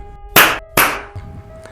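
Two sharp, loud slaps to the face land about half a second apart, each a crisp broadband smack, followed by a few faint scuffling thumps.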